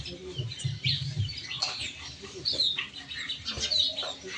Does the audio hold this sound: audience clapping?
no